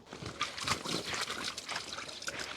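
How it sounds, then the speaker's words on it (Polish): Water trickles and splashes as it is poured out of doors beside a nesting goose, a steady close wet dribble running throughout with no talk. "To chyba czas, żeby dolać wody, co?"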